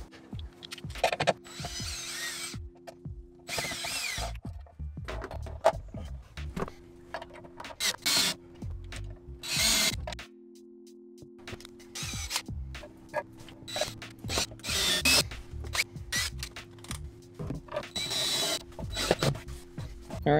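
A power drill whirs in repeated bursts, starting and stopping several times as it drives into a wooden shelf inside a camper van, mixed with scraping, rubbing and handling noises close by.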